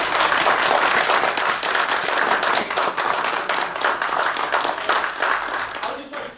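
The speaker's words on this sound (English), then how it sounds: "How about a round of applause for both Steve and Bill?" Loud, sustained audience applause at a Fair Tax vs. Flat Tax forum, dense clapping from a crowd lasting several seconds, with some voices mixed in before it tapers off.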